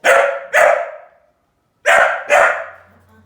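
A dog barks for food in two pairs of loud, close barks separated by a short pause, with no talking over them.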